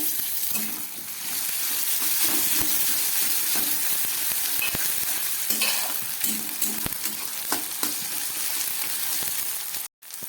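Onion and tomato fry in a pan, a steady close sizzle with repeated stirring scrapes and clinks throughout, no voices.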